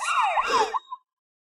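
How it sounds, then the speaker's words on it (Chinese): A police car siren wails past in a short, loud burst of rising and falling sweeps that cut off abruptly after about a second. "警车没停，是路过的。"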